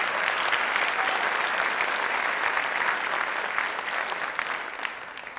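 Sustained, dense applause from an audience at a Women's History Month awards celebration honoring women, steady throughout and tapering slightly at the end.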